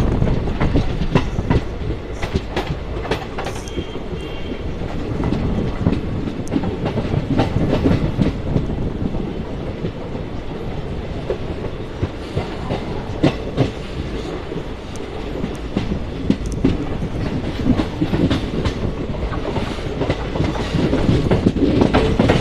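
The West Coast Express train arrives at Tiruppur station in Tamil Nadu at speed, a loud, continuous rumble with steady clickety-clack of wheels over rail joints and occasional sharp metallic clanks, close by.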